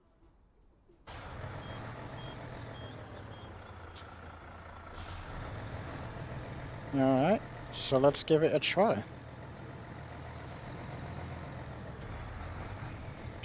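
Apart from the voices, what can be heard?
Mercedes-Benz truck in video game SnowRunner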